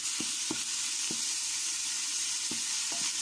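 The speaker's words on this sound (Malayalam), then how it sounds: "സവാള ഇട്ട് അതൊന്ന് വഴന്ന് വരുമ്പോൾ അതിലേക്ക് നമ്മൾ അരച്ചു വെച്ചിരിക്കുന്ന പച്ചമുളക്, വെളുത്തുള്ളി, ഇഞ്ചി പേസ്റ്റ് ഇട്ട് കൊടുക്കാം." Crushed green chili, garlic and ginger paste sizzles with sliced onions in hot oil: a constant bright frying hiss, close and steady. Soft scraping stirs punctuate it at irregular intervals.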